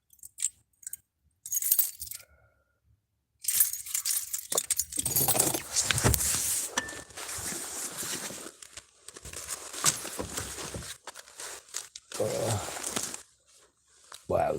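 A large bunch of keys jangling and clinking as they are handled, in loud, close bursts with rustling and pauses between, and some voice in the background.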